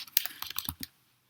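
Quick clicky keystrokes on a Mac keyboard entering a Terminal command, about a dozen taps in an uneven burst lasting under a second before falling silent.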